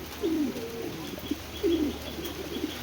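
Racing pigeons coo in a few soft, rolling phrases close by, with a steady faint background hum and no talking.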